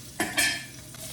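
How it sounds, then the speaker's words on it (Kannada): Onion dropped into hot oil with cumin and chili sizzles in two short, close bursts, the second longer, then settles to a soft crackle, with no one speaking. "ಸೊ ಇವಾಗ ಆಯಿಲ್ಗೆ ಸ್ವಲ್ಪ ಜೀರಿಗೆ, ಚಿಲ್ಲಿ, ಸೊ ಇದಕ್ಕೆ ಆನಿಯನ್ ಆ್ಯಡ್ ಮಾಡ್ತಾ ಇದ್ದೀನಿ"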